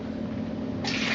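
Water pours into a water heater while coffee is being made, a steady low hum giving way to a brief rushing splash near the end, close and fairly quiet.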